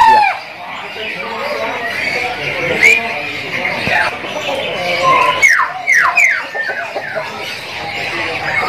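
Javan pied starling (jalak suren) singing in a bird shop, with sharp whistled notes and chirps rising over a busy background of other caged birds and nearby talking.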